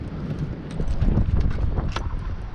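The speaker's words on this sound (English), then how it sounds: "Hopefully you guys can hear me with all this wind." Gusty wind buffets the microphone outdoors beside a Chrysler 300 under repair, a steady low roar swelling louder through the middle with no speech.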